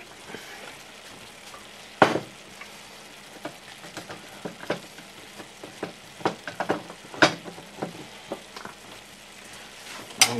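Salmon fried rice frying in a pan while being stirred and flipped, with a steady sizzle beneath repeated scraping clatters of the utensil, loud and close, in irregular bursts.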